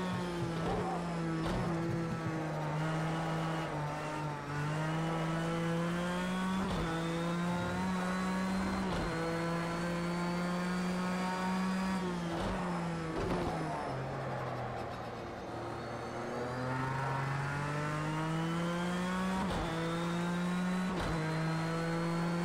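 Race car engine in a racing video game revving loud and steady, pitch rising and dipping through gear changes and corners with brief tire squeal, continuous throughout with no talk.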